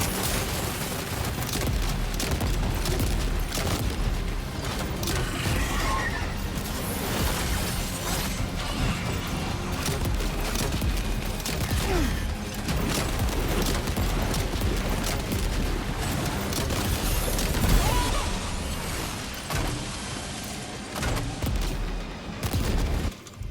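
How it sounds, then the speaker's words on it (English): Heavy in-game combat in Death Stranding 2 around a mech factory, with repeated grenade launcher explosions and blasts crashing continuously and loudly amid mechanical clatter, no pauses for the whole stretch. "Not the shotgun, but the grenade launcher."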